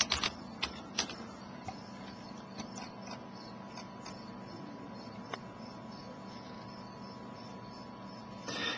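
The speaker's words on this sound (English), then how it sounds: "I'm going to type in your code, your login and your password." Faint, sparse clicks and taps of computer keys as a login and password are typed, with a few sharper key strikes early on and quiet room hum between them.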